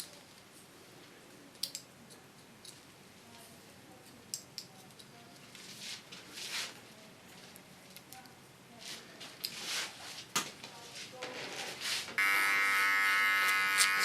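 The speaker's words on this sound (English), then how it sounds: "Small clipper, I clean a little bit more of the hair off." A small electric hair clipper buzzing in short intermittent bursts while trimming a woman's ultra-short summer haircut, with light clicks and handling noises, quiet and close.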